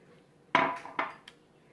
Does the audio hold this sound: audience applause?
no